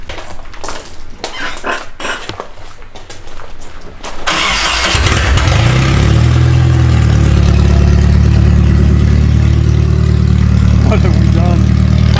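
A car engine with no exhaust cranks and roars to life after a few seconds of talk, then settles into a loud, raw, unmuffled idle that rumbles steadily.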